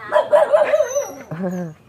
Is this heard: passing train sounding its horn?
no